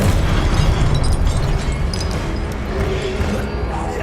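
Incendio, the fire spell in Hogwarts Legacy, goes off in a loud, booming blast with crackling bursts, amid dense combat noise and no clear talking.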